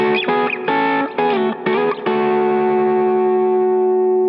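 Electric guitar double stops sound in harmony: a few quick two-note slides and bends, then one sustained chord ringing out and slowly fading, colored by effects and mild distortion, with nobody talking.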